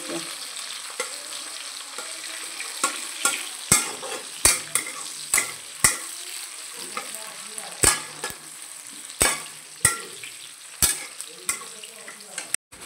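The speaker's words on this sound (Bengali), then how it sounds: "আর এইদিকে চলছে পেঁয়াজ ভাজা।" Steady hiss of onions frying in a pan, punctuated by frequent sharp clicks and scrapes of a utensil stirring against metal, with no talking.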